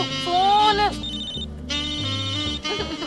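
A phone rings with a loud, melodic electronic ringtone, repeating tones close by with a brief pause midway.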